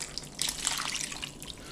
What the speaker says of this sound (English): We're now going to add the water and tomatoes.